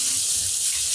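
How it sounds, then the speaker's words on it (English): A sink spout sprays water hard over rice in a strainer, rinsing off starch; a loud, steady close-up hiss with no talk. "use the spray function on the spout to rinse it off and really get all that starch off."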